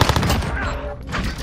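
Gunfire in an online video game custom lobby, a quick burst of shots that fades into a steady background, close and fairly loud.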